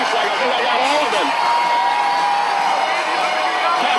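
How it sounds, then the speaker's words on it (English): A dense crowd of fans at the Chicago Blackhawks championship parade cheers and whoops continuously in the street, a broad sustained roar from many voices with a few louder shouts rising out of it. "You can just hear them cheering now in anticipation of the bus coming down the street"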